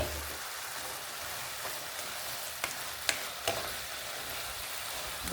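Finely shredded cabbage fries in a pan with a steady, hissing sizzle like light rain, close and moderately loud, marked by a few sharp clicks and pops partway through.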